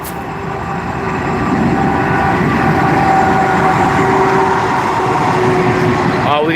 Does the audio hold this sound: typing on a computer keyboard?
no